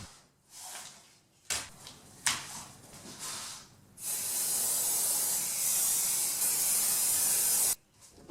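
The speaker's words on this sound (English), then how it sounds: "with some spray adhesive I attached the rubber mat to the bottom piece." Spray adhesive for fixing a rubber mat to the bottom piece of a circular saw guide rail: a few short hissing spurts, then one long, steady, loud spray lasting about four seconds before cutting off.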